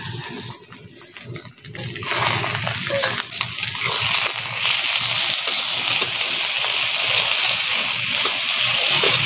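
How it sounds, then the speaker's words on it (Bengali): Thinly cut potatoes frying with onions in a pan, a loud sizzle that rises after a quieter start and then hisses steadily with occasional stirring scrapes. "এই আলুগুলো পেঁয়াজের সঙ্গে দিয়ে একটু কষে নিচ্ছি"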